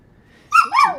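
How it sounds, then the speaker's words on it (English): A pet dog gives a sudden high, wavering whimper that lasts about half a second after near silence, clear and fairly close. "Yeah, that's my dog in the background."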